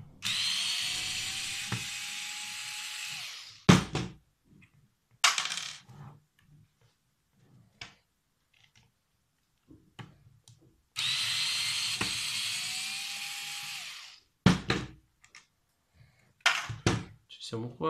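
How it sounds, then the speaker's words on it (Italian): Cordless screwdriver unscrewing screws while a Parkside PSTD 800 B2 jigsaw is taken apart: two long motor whirs, each followed by clicks and clatters of small parts and screws being handled, close and fairly loud. "quello che non mi piace di questi avvitatori è che non sono progressivi"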